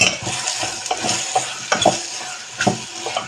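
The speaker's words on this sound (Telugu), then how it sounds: "ఈ ఉప్పు ఈ ముక్కలన్నిటిలో ఆనియన్లో కలిసేలాగా కలిపేసుకొని మూత పెట్టి మగ్గనివ్వాలి" Close, loud stirring as salt is mixed into onions and bottle gourd pieces in a pan, with repeated scraping strokes of a spoon over a continuous low sizzle, no one speaking.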